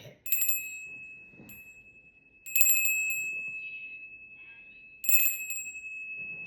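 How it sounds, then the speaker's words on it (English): A small hand bell rung three times, each a bright ringing strike with a long sustained tone that fades slowly before the next, spaced a couple of seconds apart in a quiet room. "Where's my little bell at?"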